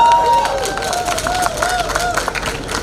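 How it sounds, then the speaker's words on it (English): Audience clapping and cheering at a lantern festival lighting ceremony at Snug Harbor Cultural Center, a steady crowd applause with scattered claps and murmuring throughout. "oh yes, gotta give them a round of applause"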